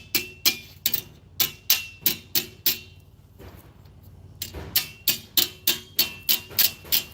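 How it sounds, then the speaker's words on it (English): A hammer strikes the edge of 18 gauge steel to bend it, landing in steady, evenly spaced ringing blows that pause briefly and then resume. The strikes are loud and close, with no voices. "Striking the edge to bend the steel where you want it."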